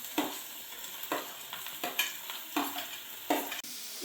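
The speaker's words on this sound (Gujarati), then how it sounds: "આ થોડા મરચાં ફ્રાય કરી દઈએ એટલે બહુ કાચા ના લાગે." Green chillies frying in a small amount of oil give a soft, steady sizzle, with a handful of louder spatters and stirring scrapes recurring roughly every second, quiet and close with nobody speaking.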